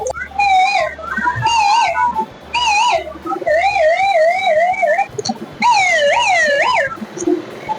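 A loud electronic toy siren imitating a 108 ambulance, sold as an Uttarayan kite-festival accessory, wailing in rising and falling sweeps, cutting in and out in short bursts over a low buzzing tone.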